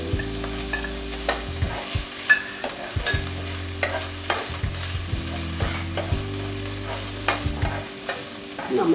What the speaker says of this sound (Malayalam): അതിൻ്റെ പുറകെ പച്ചമുളകും കറിവേപ്പിലയും കൂടി ഇട്ടു.